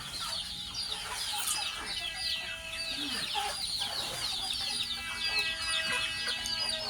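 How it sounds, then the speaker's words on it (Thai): Chickens cluck repeatedly in a flooded rural yard, with busy overlapping clucks and squawks from several birds at moderate distance, a few louder calls standing out over a steady ambient hiss. "ไก่เลยไม่ได้นอนดีครับ"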